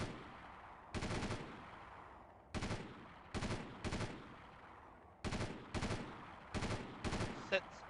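Pistol gunfire in the video game Delta Force, sharp shots in quick pairs and single cracks, repeated at an uneven pace with short gaps between.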